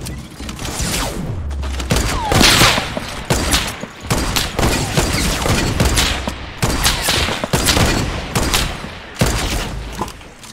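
Rapid gunfire in a Fortnite limited-time sniper shootout mode, a dense run of loud cracks and booms that keeps going for the whole stretch with barely a pause.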